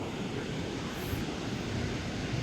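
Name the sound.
sea waves at Ratnadurg Fort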